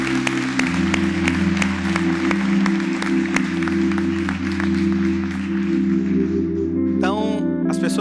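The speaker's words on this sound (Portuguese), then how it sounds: "eu gostaria que toda a igreja aplaudisse cada um desses irmãos" A church congregation applauds a group of members during a service, steady clapping from the room over a sustained organ or keyboard chord, with voices rising near the end.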